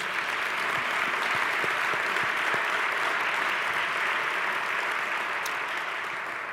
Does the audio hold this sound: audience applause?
yes